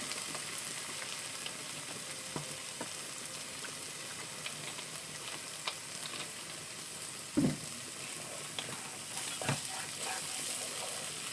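Spice masala with black mustard seed and poppy sizzles and fries steadily in a pan for mustard-poppy hilsa, a continuous soft crackle with a couple of brief louder stirring knocks, no talk.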